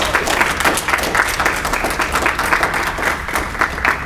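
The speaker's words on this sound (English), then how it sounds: "Let's keep the applause going." Audience applause welcoming a speaker at a university literary reading, thick continuous clapping from a sizable crowd, steady and fairly loud for the whole stretch without speech.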